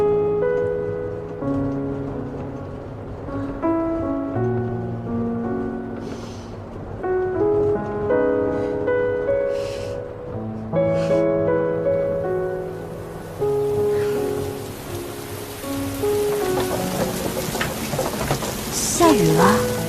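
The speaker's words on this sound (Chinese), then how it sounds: "下雨了。" Steady rain sets in under melodic music, growing into a broad, loud wash of falling water in the second half, with deeper rumbles that may be thunder.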